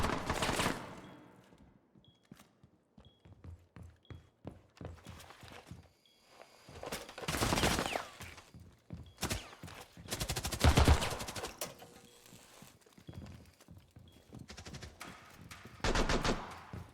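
Rainbow Six Siege gunfire: scattered single shots and sharp rapid bursts of automatic fire, some loud and close, others fainter, with footsteps and quiet stretches between volleys.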